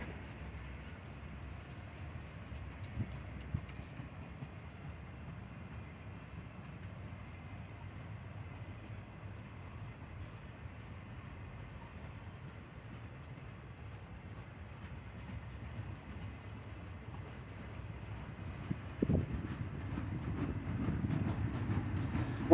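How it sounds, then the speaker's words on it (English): A slow Norfolk Southern maintenance-of-way train rumbles past at a distance in Erlanger, a steady low drone with faint clatter that grows louder near the end. "MOW train rolling into Erlanger here."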